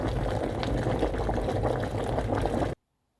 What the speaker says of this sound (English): you can see the water boiling